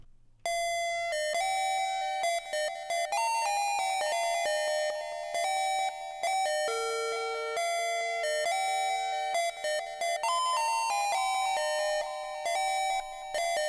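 A PW for President synth lead with delay plays a bright, bell-like stepping melody over an emo plugg beat, sustained notes moving through several pitches, loud and steady throughout with no voice.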